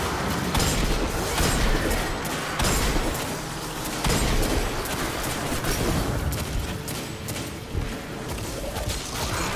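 Dense, continuous gunfire from a Destiny 2 firefight, with rapid overlapping shots, heavy booms and mechanical clatter filling the whole stretch at a steady, loud level with no pauses.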